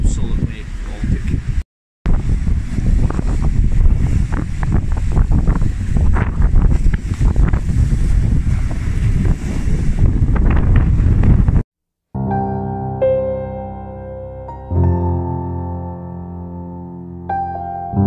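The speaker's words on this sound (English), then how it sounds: "The waves are fair, still lashing over." Strong wind buffets the microphone over crashing ocean surf on an exposed, cold shore, a loud continuous roar for about eleven seconds before it cuts to quieter, tonal sound.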